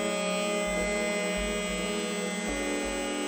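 CNC mill spindle at 20,000 RPM facing the top of a brass weight part for an RC buggy, a quiet steady high whine and hum with faint periodic cutting pulses.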